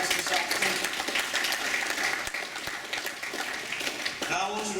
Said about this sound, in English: I want you to applaud Mr. Teller and Ms. Johnson and Broward College for giving us this opportunity.